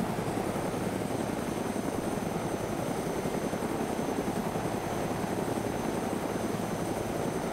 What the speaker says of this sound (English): Yeah, there's a heli right there.